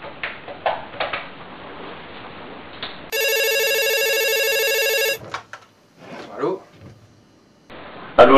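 A telephone rings with a bright electronic trill lasting about two seconds, sitting loud and steady between stretches of French dialogue in a film scene.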